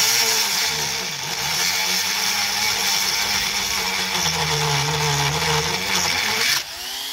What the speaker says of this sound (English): So I'll just change to my multi-tool